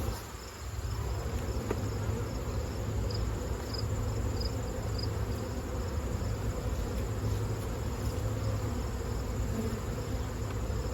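Honeybees buzz around opened hives in an apiary, a dense, continuous hum that holds steadily at close range for the whole stretch.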